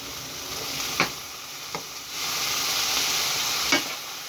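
Tinned tomatoes stirred into a sizzling Hungarian goulash, a steady fry under a few sharp spoon scrapes and knocks against the pot, close and moderately loud, with no talking.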